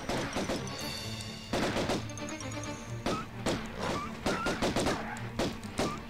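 Gunfire from the video game Tomb Raider, rapid bursts of clustered shots repeating throughout at moderate loudness, with short gaps between volleys.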